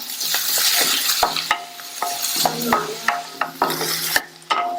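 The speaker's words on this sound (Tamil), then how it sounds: "இந்த வெங்காயம் ஓரளவு வதங்கி வரட்டும்." Onion sautés in hot oil with curry leaves and garlic, a close hiss broken by repeated sharp spoon strokes and scrapes against the pan, irregular and fairly loud throughout.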